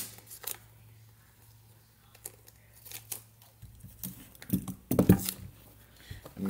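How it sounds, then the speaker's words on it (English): Scissors snip through strips of blue tape in a handful of short, close crisp cuts with brief pauses, the last cluster louder and papery. "So I'm gonna cut two pieces of the blue tape I've been using."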